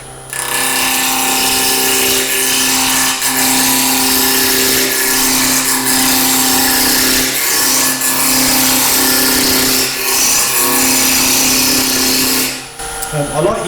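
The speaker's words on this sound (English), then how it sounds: "I'm just going to rough that down to begin with my 3/8 bowl gouge" A wood lathe spins a box blank while a 3/8 bowl gouge roughs it down, producing a loud continuous whirring hum with steady cutting noise throughout, briefly dipping near the end.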